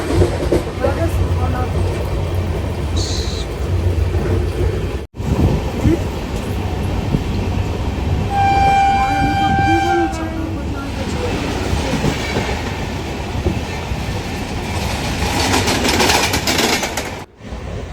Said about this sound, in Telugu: మంచి స్పీడ్గా వెళ్తుంది ట్రైన్ అయితే